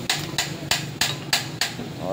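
Six sharp metallic hammer strikes ring out at a steady rhythm, close by, each with a brief clanging decay, hammering on a part of a Honda 150 motorcycle that won't start.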